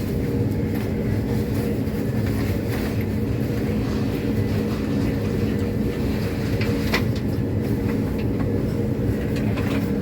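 Southern train running between East Croydon and Gatwick Airport, with a steady low rumble and drone of wheels and carriage filling the cabin throughout, faint clicks and rattles over the top, and no talk.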